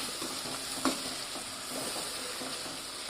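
Ginger-green chili paste spoonfuls fry in hot oil in a pan for aloo masala, giving a steady, even sizzle with one brief clink of stirring early on.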